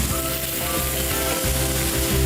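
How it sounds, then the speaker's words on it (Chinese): Flour-coated salmon back strips, hairy gourd, eggplant and red and yellow peppers deep-frying in hot oil, giving a steady, dense, fairly loud sizzle with no voices. "将鲑鱼上背肉切成条状，和节瓜、茄子、红椒、黄椒一起沾粉下锅油炸"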